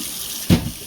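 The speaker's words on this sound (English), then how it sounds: "I'm gonna run it under some hot water" Hot water bursts briefly from a kitchen tap into the sink, a short, fairly close splash over a steady background hiss.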